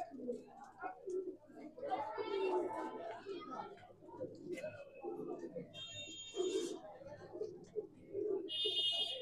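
Punjabi Madrasi pigeons coo in soft, repeated low throaty bursts close by, mixed with a few higher chirps and twitters from other birds. Someone talks intermittently over them.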